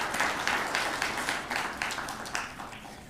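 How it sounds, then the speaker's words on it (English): A round of applause from the audience at the launch of an investment agency's strategic plan in Kenya, dense continuous clapping of a sizeable crowd, steady and moderately loud throughout. "I think they deserve another round of applause"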